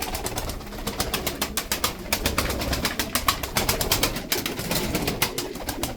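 Tumbler pigeons coo in a loft, soft rounded calls repeating under a busy bed of clicks, flutters and rustling from the flock nearby.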